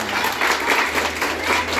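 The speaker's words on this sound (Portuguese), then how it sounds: "uma salva de palmas!" Audience applause at a textile-crafts presentation, a brisk, dense burst of many hands clapping, close and lively, lasting the whole short stretch with a faint crowd murmur beneath.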